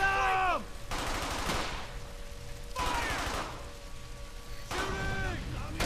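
Loud bursts of gunfire from the WWII shooter Brothers in Arms: Hell's Highway, coming in three heavy volleys separated by brief lulls, with shouted voices ringing out between the shots.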